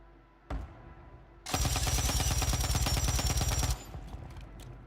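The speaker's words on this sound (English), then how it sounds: "A whole bunch of bad shooting there." Gunfire in a video game shooter: a single sharp shot, then a loud sustained automatic burst of rapid rounds lasting about two seconds, followed by quieter scattered sounds.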